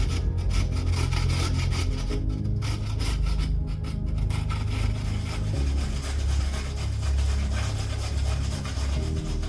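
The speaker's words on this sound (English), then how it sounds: "Just grate in the 2 carrots." Two carrots rubbed against a grater for soup, a steady dense rasping that runs continuously and loudly for the whole stretch with no talk over it.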